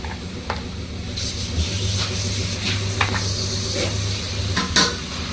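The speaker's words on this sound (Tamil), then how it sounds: "இப்போ இது கூட நம்ம வாஷ் பண்ணி வச்சுருக்க மட்டனை ஆட் பண்ணிக்கலாம்" Washed mutton pieces go into a pan of sautéed masala and get stirred, with utensil scrapes and clinks over a steady low sizzle, close and moderately loud.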